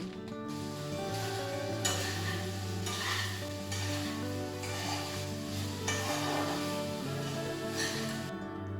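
Meat sizzles in a pan with capsicum and onion while it is stirred. The hiss is steady and close, broken by soft scraping bursts, over a faint steady hum.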